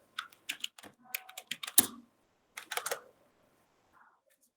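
Keystrokes on a computer keyboard while typing into an MS Excel spreadsheet, a few quick bursts of clicks near and fairly quiet, a short pause, then another cluster of taps with a faint final click.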